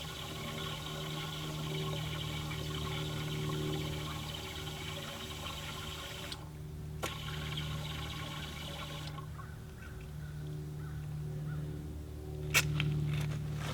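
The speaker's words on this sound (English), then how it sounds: "You hear that gurgling." Liquid ballast gurgles inside a loaded John Deere 4300 tractor tire during plugging, a steady close watery churn with a few brief knocks, with no speech.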